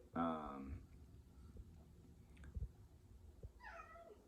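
A cat meows twice, a longer cry at the start and a shorter one near the end, over a low background hum with faint rustling.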